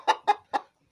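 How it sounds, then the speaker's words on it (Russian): Hens clucking close by, three short evenly spaced clucks in quick succession, then quiet. "Курочки пошли пить водичку."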